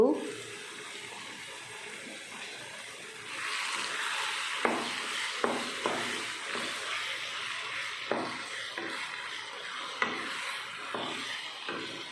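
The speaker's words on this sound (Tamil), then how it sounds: "ஒரு கப்பு தண்ணி, எல்லாம் ஒன்று சேர்த்து நல்லா கலந்து விட்டுடலாம்." Water pours steadily into a pan, a continuous close hiss joined by occasional soft knocks and clinks.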